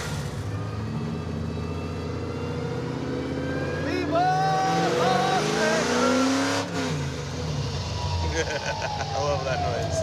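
A Ford Mustang's engine runs steadily and rumbles low, then its pitch climbs and falls during revving, with people talking over the engine for part of the time.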